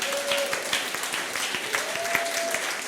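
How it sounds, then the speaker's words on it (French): A church congregation claps and cheers for the Lord Jesus, a dense, close wash of applause with a sustained tone from an instrument or voice rising over it. "acclamons pour le Seigneur Jésus"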